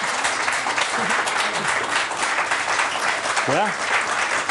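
Studio audience clapping on a German cooking show, a steady dense wash of applause running throughout, with someone briefly speaking over it.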